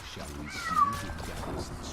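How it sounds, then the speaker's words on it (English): A pet cat meows in the background, a drawn-out tonal cry rising over close talk about a Heroes of the Storm match. "I apologize for my cat in the background."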